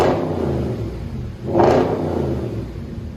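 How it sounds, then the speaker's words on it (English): A 4.2L V8 in an Audi S4/S5 with a modified exhaust (muffler delete or straight pipe) idles with a deep, throbbing burble. The engine swells into a sharp rev midway, then settles back to a loud, close rumble. "Rev it up a little bit higher."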